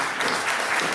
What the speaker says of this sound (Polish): Gorące brawa dla Julii